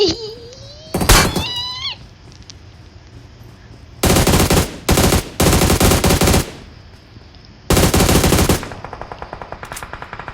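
Rapid automatic gunfire from a video game bursts out in several loud sustained volleys separated by pauses, with a cat-like meowing effect and a short chirping tone near the start.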